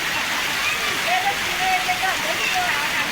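Dense, heavy rain pours in a constant roar, with occasional faint voices murmuring beneath the downpour.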